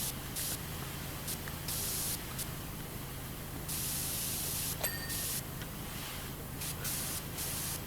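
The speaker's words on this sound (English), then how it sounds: "Spraying down lights." Steady pressure washer spray from PowerWash Simulator, a continuous loud hiss that swells and dips in bursts over about eight seconds as lights are sprayed down, with a brief sharp click near the middle and no talk.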